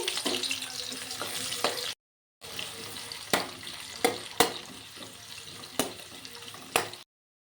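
Chopped onions and whole cumin seeds frying in oil in a kadai, a moderate crackling sizzle with sharp spoon clinks and scrapes at irregular intervals, and one brief silent gap near the start.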